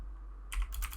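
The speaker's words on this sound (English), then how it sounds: "We can access the username by typing username" Keystrokes on a computer keyboard start halfway through, a quick burst of close, crisp clicks after a near-silent opening, with no voices.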